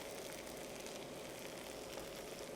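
Ginger garlic paste sautés in a hot pan for Chettinad chicken kurma, giving a faint, steady, even sizzle with a soft frying hiss and no talk.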